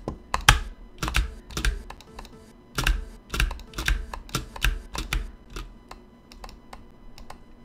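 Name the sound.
computer keyboard typing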